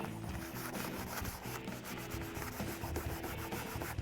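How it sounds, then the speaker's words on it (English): Continuous rubbing and wiping on the door area of a Ford F-150 Raptor, cleaning the paint with alcohol; a steady, faint scrubbing friction with soft rhythmic strokes, no voices. "you want to make sure you get some alcohol, clean the area thoroughly so the tape sticks"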